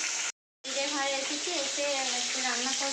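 Food sizzling steadily in a hot pan in a home kitchen, a close, continuous frying hiss broken by a brief silent gap near the start, with faint speech underneath.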